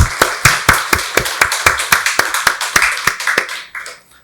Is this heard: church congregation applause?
yes